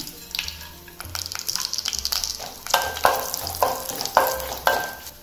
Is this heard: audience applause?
no